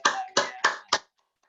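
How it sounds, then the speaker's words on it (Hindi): Four sharp, evenly spaced bursts of clapping from a small group at a morning yoga session, close and loud, then silence. "आज की सुंदर सुबह के लिए, के लिए जोरदार तालियां।"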